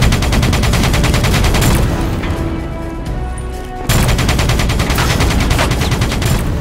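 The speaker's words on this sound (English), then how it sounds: "Get that minigun from the mobile armory." A minigun roars in Call of Duty Black Ops III, firing loud continuous rapid bursts with a brief lull in the middle before the relentless stream resumes.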